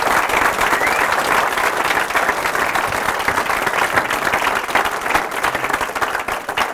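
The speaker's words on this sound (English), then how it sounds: "can we just have a massive round of applause for David Duke and Sir Tom Hunter?" Audience applause at a breakfast event with Sir Tom Hunter: a dense, loud, sustained wash of many hands clapping that fills the whole stretch without a break.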